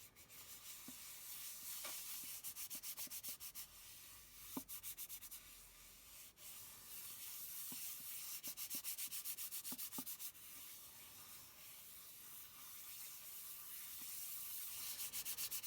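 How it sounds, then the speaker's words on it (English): Glued paper edges of a hexagonal origami desk tidy being rubbed by hand, a steady close dry scuffing and rasping that runs continuously with a few small taps and knocks, no talking. "I'm just rubbing those edges where the glue is."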